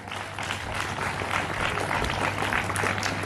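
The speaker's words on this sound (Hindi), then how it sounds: "Invite them with big round of applause." Sustained audience applause for contestants called to the stage at a school National Science Day event, a steady dense wash of many hands clapping throughout, moderately loud, with no talk.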